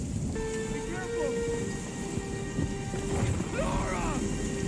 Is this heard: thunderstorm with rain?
yes